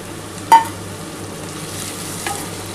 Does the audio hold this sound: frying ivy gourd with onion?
yes